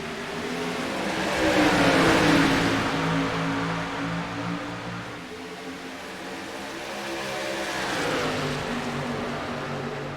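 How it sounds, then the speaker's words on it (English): Xfinity Series race cars pull away from a start at Kansas Speedway. A raucous engine roar swells and fades as the pack passes, followed by a second rising wave of engine noise, heard at some distance without speech. "that beautiful raucous sound these cars make when they come off the starts and come off the runs"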